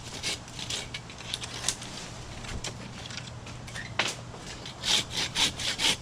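A handsaw cuts through an overgrown maple branch during tree trimming, giving steady rasping back-and-forth strokes at close range, with the rhythm becoming more distinct and pulsing toward the end.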